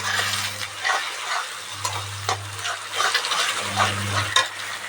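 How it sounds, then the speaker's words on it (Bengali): An egg fries in a pan for pasta, steady close sizzling with occasional stirring and utensil scrapes, and a low hum running underneath. "আর ডিমটা আগে ভালো করে ভেজে নিব"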